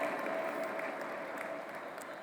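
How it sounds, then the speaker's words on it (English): An audience at an interfaith forum welcome session in Pune gives a sustained round of applause, a dense, even roar of many hands clapping that holds steady throughout. "Please give a huge round of applause for his divine blessings to all of us."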